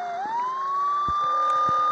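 A steady electronic siren tone in the game Offroad Car X rises and holds, loud and continuous, with faint engine hum and a few soft knocks underneath.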